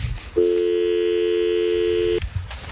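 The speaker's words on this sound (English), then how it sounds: "I'll give him one chance to answer his phone right now, Terry." A single long steady telephone tone, like a ringback or dial tone on a call to someone's phone, sounds loud and unbroken for nearly two seconds before cutting off, with faint room noise around it.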